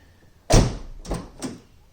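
A 2009-2010 Hyundai Sonata car door shuts with a firm thunk, followed by two lighter knocking clicks as it is opened and closed again, close by.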